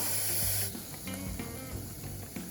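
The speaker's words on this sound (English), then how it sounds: "So we're just going to deglaze the pan with a little bit of Madeira." Roasted mushrooms in a hot pan deglazed with Madeira: a sharp, loud hiss bursts at first, then settles into a softer, crackling sizzle.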